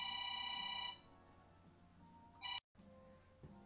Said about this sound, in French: Il y avait mon téléphone qui a sonné.